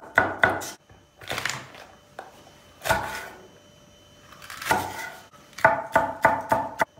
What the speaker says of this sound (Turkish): Yeşil biberlerimizi de doğradık.